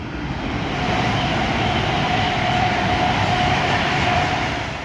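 Class 390 Pendolino 390045 Birmingham Pride passes a station on the West Coast Main Line at Rugby, a loud continuous roar of rushing wheels and rail noise that holds steady throughout.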